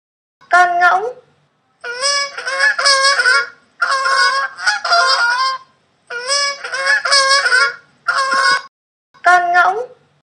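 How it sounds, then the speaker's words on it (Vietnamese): Loud, nasal goose honks repeat in several bursts, some single and some in fast runs of calls, with short silent gaps between them. No other sound is present. "Con ngỗng."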